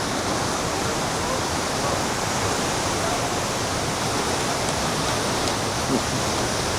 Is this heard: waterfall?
yes